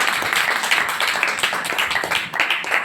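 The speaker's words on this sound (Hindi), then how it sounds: "जोरदार तालियां प्रभु की महिमा के लिए" Loud, dense clapping from a church congregation praising God, a steady busy patter filling the room with no talk over it.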